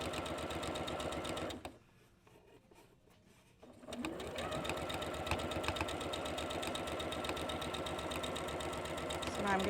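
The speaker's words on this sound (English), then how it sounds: "So now I'm going to backstitch at the end, just a couple of stitches, and be done." A sewing machine backstitches a few stitches at the end of a quilt-block seam, running steadily and close, then pausing briefly before whirring on at an even, rapid pace.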